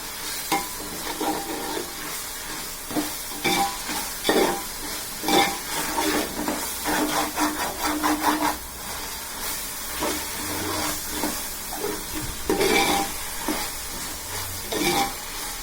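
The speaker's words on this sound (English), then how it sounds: "So you have to stir like this, or else that ginger garlic will get stick bottom." Ginger garlic paste frying for mutton biryani and stirred in a pan, a continuous loud sizzle and hiss with repeated scraping strokes of the spoon, close and without talk.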